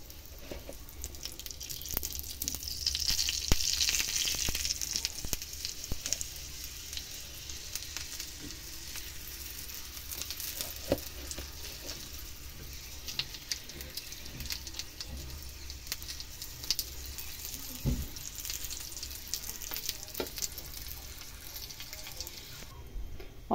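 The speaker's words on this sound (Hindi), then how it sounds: "और अब इसमें वो लगा रही है घी" Ghee sizzles on a simple salted paratha frying in a pan, with a steady crackling hiss for the whole stretch, close and moderately loud, with occasional soft taps and faint background voices.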